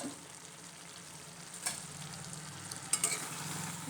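Fried meat and potatoes stirred and fried in spice paste, a faint low sizzle running throughout with a few soft scrapes and clinks of stirring, quiet and without speech.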